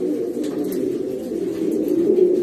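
A breeding male pigeon coos continuously and fairly close, a soft rolling murmur with no talking over it.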